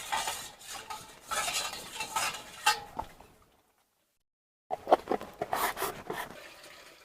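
Salt being stirred into water with a spoon, a run of quick clinking scrapes against the vessel that stops briefly and then resumes, close and fairly quiet, with no talking.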